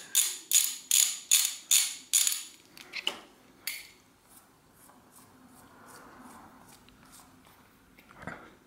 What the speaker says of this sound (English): So this will just fit right on a ratchet wrench. And then I'll loosen these little caps here.